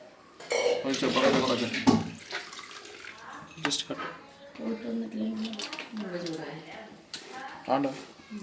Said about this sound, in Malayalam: കഞ്ഞിയാണ് കേട്ടോ കോരി ഒഴിക്കുന്നത്